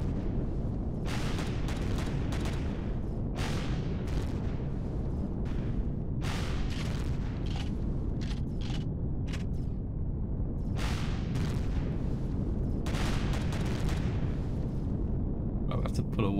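Turret fire at a base in the video game Empyrion Galactic Survival: repeated sharp, booming bursts at irregular intervals over a low rumbling background, with someone talking throughout.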